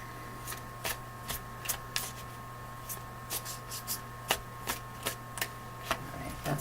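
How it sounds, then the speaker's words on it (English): Shaman Wisdom oracle cards being shuffled by hand, a series of crisp, regular riffling flicks about every half second over a faint steady hum. "So first we'll pull a Shaman Wisdom card."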